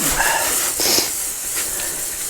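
A water spray hissing against a vehicle to rinse off gravel and road grit picked up from landslides, a steady close spray with a few brief surges in intensity, heard alone.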